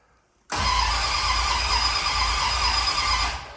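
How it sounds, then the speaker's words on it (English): A car engine turns over after a quiet start, a loud, steady whirring drone with a squealing edge that holds evenly for about three seconds before easing off, close to the listener. "It cranks over, so that's a good sign."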